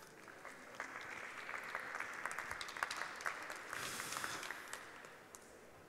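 A crowd at a kids' magic show applauds a volunteer called up on stage, a steady wash of many hands with sharp individual claps popping out, fairly distant and building slightly toward the end.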